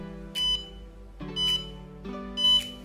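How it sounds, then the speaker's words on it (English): Beeps from a baby-in-car alarm that sounds once both the baby and the driver are detected: three short, loud electronic beeps, evenly spaced about a second apart, with a low hum underneath. "short beep is heard"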